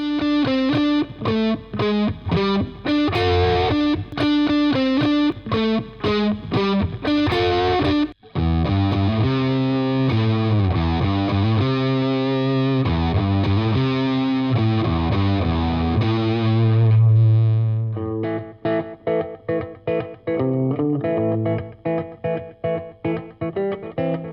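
Heavily distorted electric guitar plays chunky, rhythmic riffs with palm-muted stops and sustained chords, loud and close, with no voices.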